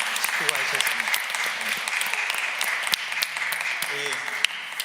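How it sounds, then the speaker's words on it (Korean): Church congregation clapping together in a steady, dense burst of applause, close and continuous throughout. "박수 한번 하겠습니다."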